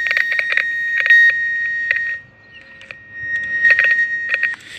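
Coaxial cable tester identifying a cable beeps loudly in quick repeated bursts, goes quiet for a moment, then resumes its rapid electronic bleeps up close.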